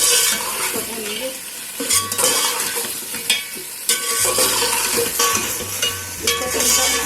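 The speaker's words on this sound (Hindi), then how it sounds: "हम इसमें चिकन डाल देंगे और इसको 3-4 मिनट इसको भूनेंगे।" Chicken pieces fry in tomato masala in a pot, a loud close sizzle with frequent stirring scrapes and clinks of a spoon against metal, going on without speech.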